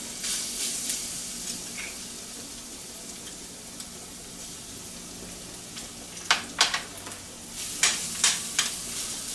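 Garlic fries in oil in a pan for pizza sauce, giving a steady close sizzling hiss, with a few sharper crackles and stirring scrapes toward the end.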